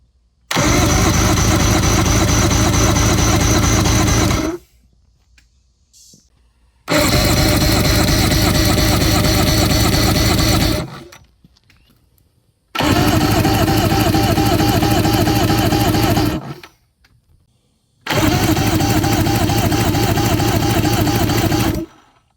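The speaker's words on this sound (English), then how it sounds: "So we're gonna swap to the next one and fire it up or crank it over and see what we get on the remainders." An Evinrude 150 two-stroke outboard motor that has sat for over 20 years cranks over in four long bursts of several seconds each, loud, close and rhythmic, separated by short silences.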